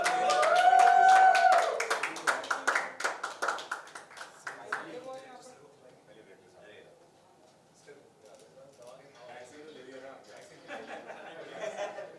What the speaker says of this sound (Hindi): तालियां कुछ तो बजाओ